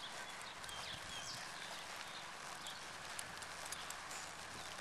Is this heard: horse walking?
yes